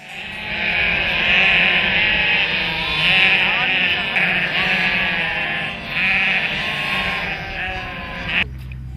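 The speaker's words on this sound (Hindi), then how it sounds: "रास्ते में दिखने वाला भेड़ का झुंड काफी मनमोहक होता है।" A flock of sheep along a road in Tibet bleats loudly and close by. Overlapping calls rise and fall continuously for nine seconds.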